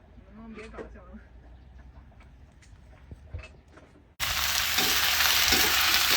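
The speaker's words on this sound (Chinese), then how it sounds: "开始炒菜了，兄弟们" Vegetables stir-fried in a wok over an open flame at a campsite, starting with faint scraping and clatter, then a loud, steady sizzle bursting in as they hit the hot oil and continuing to the end.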